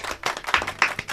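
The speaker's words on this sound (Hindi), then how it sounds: "जोरदार तालियां" A studio audience on a Hindi radio show gives a brief, quick burst of close, rhythmic clapping lasting about a second.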